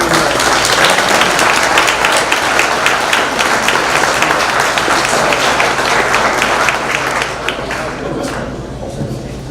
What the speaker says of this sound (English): Let's give Chief a big round of applause for being here.